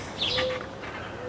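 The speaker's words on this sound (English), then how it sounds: "getting some birds on the bird feeders now." Birds at a backyard feeder give a brief high chirp and a short whistled note over a busy outdoor hiss, fairly faint and distant.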